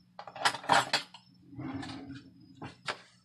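A metal spoon clinking against a plate and cutlery in a home kitchen, several short close clatters in quick bursts with a pause between them.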